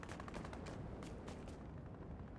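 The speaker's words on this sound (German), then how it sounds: "Da drüben wird geschossen." Distant gunfire in the video game Fortnite, a faint ongoing crackle of rapid shots under a steady low rumble, with no talk.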